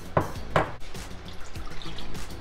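Half a cup of water poured into a blender of drink mix with milk and sugar, a short splashing pour with two bright bursts and then a steady trickle, close and fairly loud.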